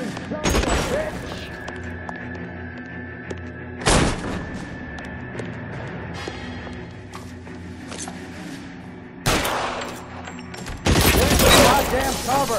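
Gunfire in an L.A. Noire shootout, where sharp, loud shots crack out in separate bursts near the start and middle, with a heavier close volley at the end over background music and voices.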